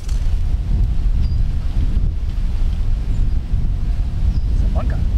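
Strong wind sweeps across a golf course on a par 5, buffeting the microphone with a loud, continuous low roar and rumble that fills the clip.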